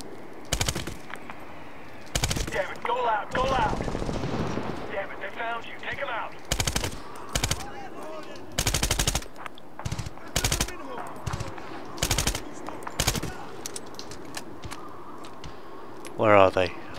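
Enemy gunfire in the shooter Medal of Honor: repeated loud bursts of rapid machine-gun fire in short volleys separated by quieter gaps, with other battle sounds and speech between them.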